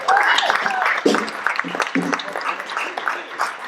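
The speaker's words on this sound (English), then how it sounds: "Let's give her another big round of applause." A crowd at a college reunion conference gives a big round of applause after a choir performance, the clapping mixed with cheering voices and shouts that rise and fall over a few seconds.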